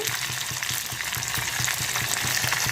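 Green chillies frying in a pan make a close, steady sizzling crackle with small rhythmic stirring knocks underneath.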